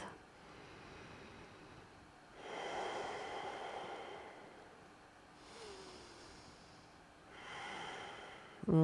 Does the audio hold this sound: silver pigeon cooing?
no